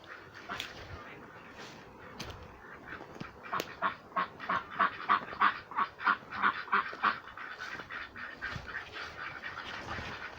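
Backyard ducks, kept for their eggs and tended during a morning feed, quack in a quick rhythmic run of loud bursts at mid-distance, with scattered calls before and after.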